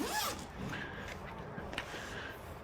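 A zipper on boom gate packaging is pulled open close by in a short rasping run, with a few quieter zip sounds after it.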